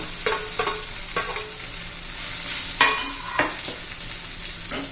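Sabudana khichdi with peanuts, ghee and salt is sautéed in a pan, a low sizzle punctuated by repeated sharp spoon taps and scrapes against the vessel, no talking.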